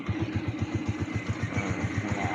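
A tricycle motorcycle engine idling while it warms up in the early morning, a close, steady, rapid low putter with an even pulsing beat and no voices.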